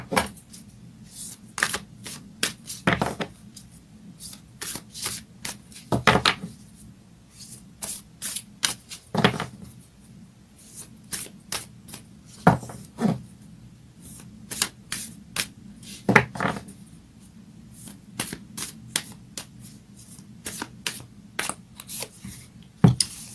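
A deck of Moonology oracle cards being shuffled and drawn, giving crisp, close riffling and flicking bursts at irregular intervals, separated by quiet gaps, with no talking.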